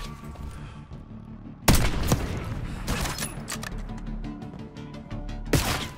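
Rapid gunfire in Call of Duty Black Ops 6: a loud burst of shots hits suddenly, followed by scattered cracks and impacts, then another sharp volley near the end, with no talk.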